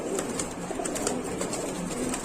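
Satin pigeons, including blue satins, coo softly in a pen at a market stall, a low steady murmur of calls under faint background noise.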